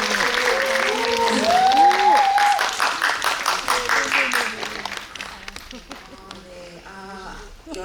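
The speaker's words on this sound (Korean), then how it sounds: "떨리지 마시라고 다시 박수." Audience applause at a cinema guest visit for the film Ghost Train at CGV Yongsan, a crowd clapping loudly under a speaking voice, then tapering off into scattered claps near the end.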